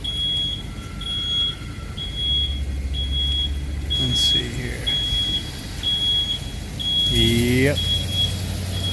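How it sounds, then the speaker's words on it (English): A vehicle backup alarm beeps steadily and repeatedly at a distance in a repair shop, a regular series of evenly spaced high tones heard under a brief spoken comment and other shop noise. "Oh my goodness, with that backup alarm."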